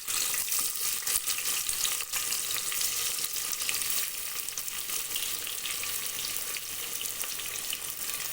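Onions frying in oil inside a pressure cooker for beef curry, a constant, close crackling sizzle with a few faint stirring knocks and no speech.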